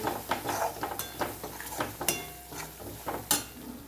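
Coriander powder and garam masala being stirred into a dish, a steady series of scraping spoon-on-pot strokes with light metallic clinks, close and rhythmic, with no talking.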